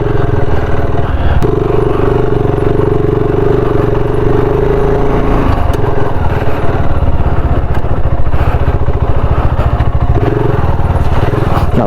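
BSA Scrambler 650 motorcycle engine running steadily while the bike turns around off-road in mud, a continuous loud close rumble with slight revving throughout.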